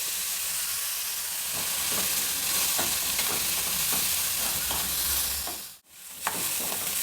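Onion and cumin seeds fry lightly in a pan with a continuous bright sizzle and frequent stirring scrapes, close and loud, with a brief dip near the end.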